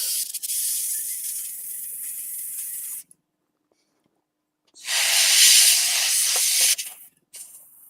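An airbrush hisses in two bursts of spraying with a near-silent gap between them, loud and close, with no talking over it.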